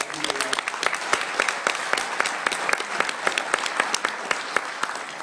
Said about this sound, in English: Give a round of applause for the military families, Gold Star wives, Blue Star wives